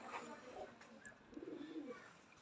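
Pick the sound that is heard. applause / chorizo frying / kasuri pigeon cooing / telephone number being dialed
kasuri pigeon cooing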